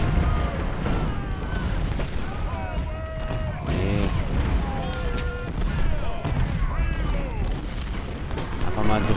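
Cannon and artillery fire in the Civil War strategy game Ultimate General: Civil War, at the Battle of Stones River: booms and volleys mixed into dense game noise and music, with someone talking over it throughout.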